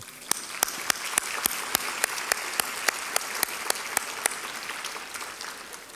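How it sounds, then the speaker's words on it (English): Audience applause at a Power of Pink charity luncheon comes as crisp, evenly spaced claps in a steady rhythm over a soft background wash, at moderate volume with no talking. "That deserves a round of applause."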